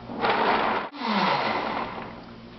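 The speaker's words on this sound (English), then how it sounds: "turn the blender on." A blender running with almonds and spring water inside, a loud steady whirring churn that dips briefly near the start and then continues at full strength with no talk over it.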